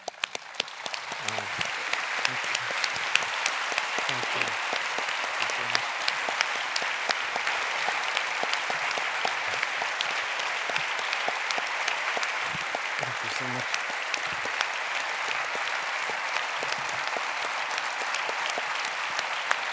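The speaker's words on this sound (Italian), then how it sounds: "E io aggiungo il mio applauso al vostro." Sustained audience applause at the Tiziano Terzani international literary prize ceremony in 2022, a dense, steady roar of many hands clapping that runs for about twenty seconds, with faint voices briefly audible beneath it.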